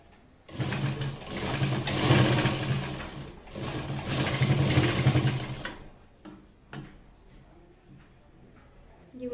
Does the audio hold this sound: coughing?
no